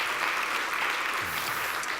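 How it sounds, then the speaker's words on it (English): Audience applause after a talk on educational concepts, a dense steady wash of clapping from many hands filling the room throughout. "Round of applause,"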